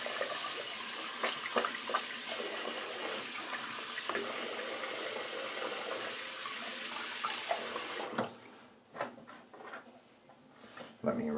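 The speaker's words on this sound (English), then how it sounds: "Let me rinse the soap that fell onto the handle here and the razor." A bathroom tap runs steadily to rinse shaving soap off a double-edge razor and its handle, a loud, hissing stream that cuts off partway, leaving faint drips and handling clatter.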